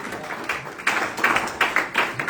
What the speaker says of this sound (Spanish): Sí, puede aplaudirle al Señor.